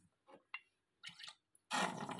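Several faint drips and small splashes, then a short close pour of water into a small cup for an orchid.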